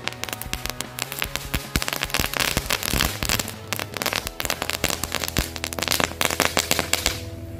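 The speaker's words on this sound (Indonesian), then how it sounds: "1 mangkok mercon asap bola sudah berhasil menyala teman-teman" A bowl of smoke ball firecrackers goes off outdoors, a dense continuous run of sharp pops and crackles with a few louder bangs, loud and close, fading only at the very end.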